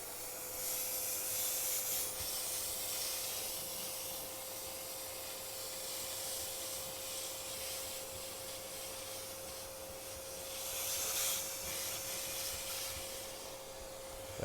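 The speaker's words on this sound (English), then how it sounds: "so turn the hoover on." A household hoover runs steadily over model railway scenery, sucking up loose static grass, debris and bits of wire from a layout, a continuous airy whoosh with a constant motor whine, swelling slightly at moments.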